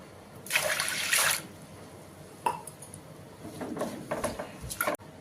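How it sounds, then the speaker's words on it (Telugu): Water is poured onto split moong dal to soak, in a short splashing burst, followed by lighter splashes and faint clinks of a container. "రెండు గ్లాసులు నీళ్ళు వేసి నానబెట్టుకుందాం"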